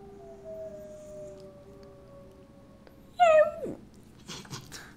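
A gray wolf howl plays from a voice assistant: a long, slowly falling tone that fades, then a sharper rising-and-dropping yelp near the end, fairly close in a quiet room.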